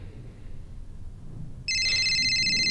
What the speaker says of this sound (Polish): Telefon dzwoni z pokoju Hani